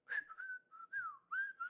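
A person whistles a short, simple tune alone, a handful of smooth sliding notes close by with brief pauses between phrases and no talking.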